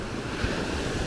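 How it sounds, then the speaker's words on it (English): Ocean surf at a quiet beach in Huatulco, Mexico, with fairly small waves: a steady, close wash of rolling, hissing water with wind rumble across the microphone, and no talk. "Waves are a little smaller today,"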